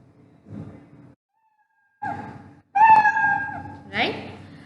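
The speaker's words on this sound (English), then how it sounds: "Take the cat sound, you will hear the cat sound." Scratch's built-in cartoon cat meow sound effect, played in a computer programming lesson: a couple of short, clear, tonal meows close together, following a brief muffled bit of background sound.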